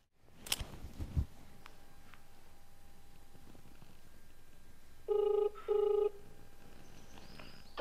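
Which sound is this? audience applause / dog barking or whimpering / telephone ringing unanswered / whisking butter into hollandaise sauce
telephone ringing unanswered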